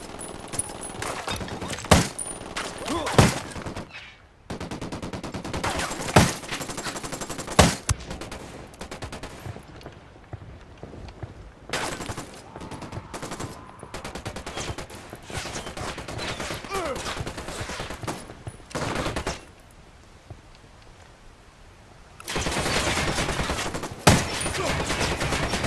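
Gunfire in the video game Ghost Recon Wildlands comes as loud, dense bursts of automatic fire, close and harsh. Brief lulls break the volleys before heavy firing resumes.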